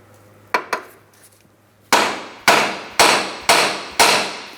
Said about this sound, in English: I'm going to use some penetrant and tap on this with a hammer.